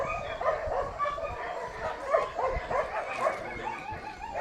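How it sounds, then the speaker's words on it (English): A young dog barks in short yips and whimpers several times at close range, with faint background chatter beneath. "This is a young dog out of Thailand, and out of Dewey Mullen's female."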